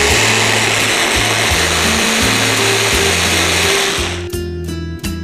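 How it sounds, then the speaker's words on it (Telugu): A blender whirs loudly as it blends banana, papaya and berries, its motor pulsing in uneven bursts before winding down near the end. "ఇప్పుడు దీనిని కూడా చక్కగా బ్లెండ్ చేసేయాలి"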